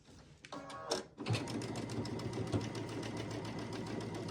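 A sewing machine runs a quilt block seam, starting after a few clicks and then humming in a steady, close, fast mechanical rhythm to the end.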